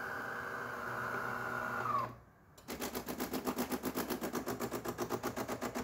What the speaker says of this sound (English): Now the machine is fully on. Now we're gonna do a rinse cycle.